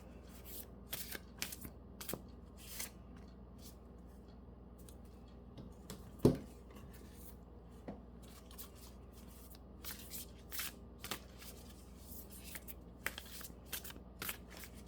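Tarot cards being shuffled and handled in a quiet room, giving a string of soft riffling and tapping bursts with one sharper snap near the middle; no voices.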